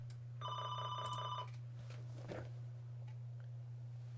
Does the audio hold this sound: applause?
no